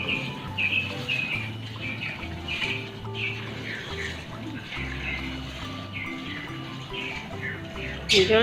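Birds chirp and squawk outdoors near a road, repeated short calls scattered over a steady low background hum at moderate-to-faint level.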